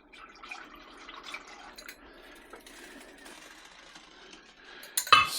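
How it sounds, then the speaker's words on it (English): Pickling brine of dark vinegar, water, sugar and salt stirred in a pot, giving soft continuous clinks and liquid swirling at close range, ending in a louder sharp clatter. "And now we are going to stir it well."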